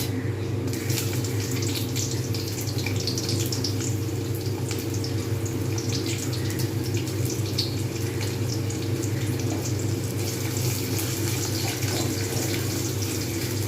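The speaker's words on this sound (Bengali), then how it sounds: "পেঁয়াজটা যতক্ষণ পর্যন্ত না লাল হয় ততক্ষণ পর্যন্ত আমি কিন্তু ভাজতে থাকবো" Onions frying in a pan with black cumin seeds for a snake gourd and prawn curry, giving a steady, dense sizzling hiss that runs unbroken from start to finish without pause.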